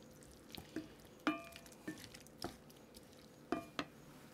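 Butter stirred into a shrimp sauce in a pan, soft scraping and a few sharp spoon taps against the pan at an uneven pace, quiet and close, with no voices.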